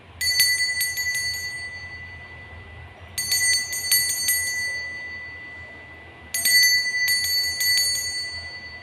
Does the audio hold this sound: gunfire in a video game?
no